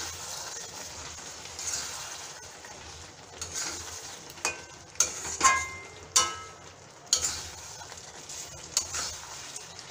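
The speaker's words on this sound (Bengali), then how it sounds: "ভাজা মশলাটা দেওয়ার পর নেড়ে দিলাম" Fried spices for a raw mango pickle are stirred in a pan, giving faint sizzling under a series of sharp spoon scrapes and clinks against the metal.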